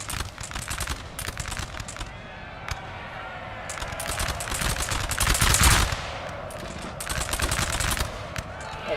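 Gunfire crackles in dense, overlapping volleys with heavy bombardment rumbling underneath in the Napoleon: Total War 3 video game, building to a louder peak before settling into steady rattling fire.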